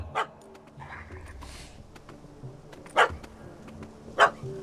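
A dog barking in The Witcher 3 video game, a few sharp, moderately loud barks spaced seconds apart over a quiet background.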